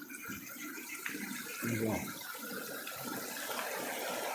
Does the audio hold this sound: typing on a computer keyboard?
no